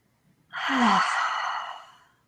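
During a breathing exercise, a single deep audible breath rises and then releases as a long, breathy exhale with a soft voiced sigh, close and alone in quiet surroundings.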